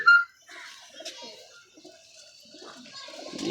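A purebred flying pigeon gives soft, faint cooing calls with a few brief higher chirps, heard up close against a quiet background.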